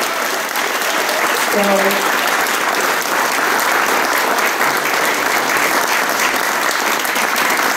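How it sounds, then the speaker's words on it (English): A conference audience claps for the day's speakers and lightning talks, a dense, sustained round of applause with a brief voice or tone near the start and continuing evenly to the end. "Give an applause for all the speakers and the lightning talk"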